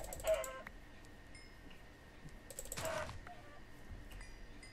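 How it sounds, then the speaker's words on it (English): Chickens cluck in a blocky survival video game, a few short bursts near the start and again around the middle, fairly close over a quiet background hum, with no talking. "Okay, there's more chickens over here."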